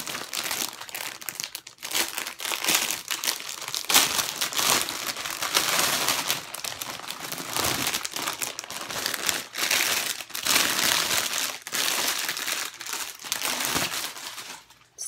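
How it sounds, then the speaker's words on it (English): A Disney shop item is pulled out of crinkly plastic packaging, giving loud, continuous crinkling and crumpling close to the microphone, with no speech. "I'm gonna take it out of the plastic"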